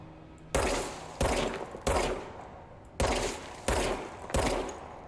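Six heavy gunshots from the video game Control come at uneven intervals, each a loud booming blast with a long decaying tail, with no voices over them.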